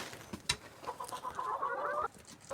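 Hens in a backyard chicken coop give a run of low, throaty clucks and a short rising cackle, fairly close with a light background hum, and no one talks.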